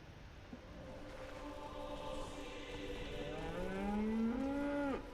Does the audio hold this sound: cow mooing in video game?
yes